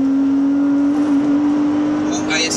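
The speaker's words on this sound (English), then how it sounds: "The engine noise." BMW Z4 3.0si Coupe engine pulling on a wet road, a steady droning hum heard from inside the cabin that holds loud and constant throughout, with a faint tyre hiss and no speech over it.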